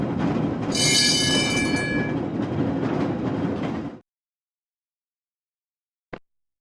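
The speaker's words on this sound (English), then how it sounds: "streetcar," A streetcar rolls past with a rumbling clatter and a bright metallic squeal of wheels, then cuts off abruptly, followed by a single short click after a pause.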